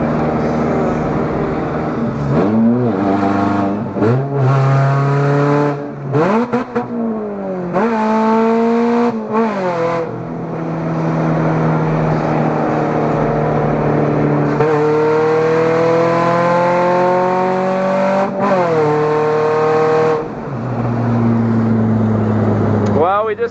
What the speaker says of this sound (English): so that's what a Cobalt SS sounds like with no exhaust